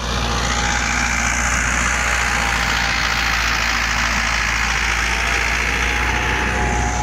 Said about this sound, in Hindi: ये देखो जी चक्कर बहुत ज़्यादा हैं।